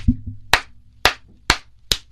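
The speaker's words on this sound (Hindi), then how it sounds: "ताली बजाते हो" Five sharp, close hand claps spaced about half a second apart, each a crisp isolated smack in a quiet room with a faint low hum beneath, the sound of clapping at a mosquito.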